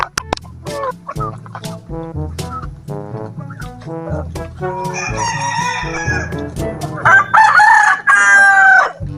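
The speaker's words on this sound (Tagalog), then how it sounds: "Manok panabong." Fighting cock breed roosters on a farm crowing loudly and close by, several long cock-a-doodle-doo calls overlapping with clucking and other fowl sounds, including a turkey-like gobble, with faint talk in the background.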